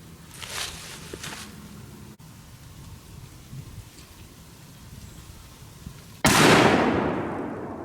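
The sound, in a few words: 223 rifle gunshot with soft point ammunition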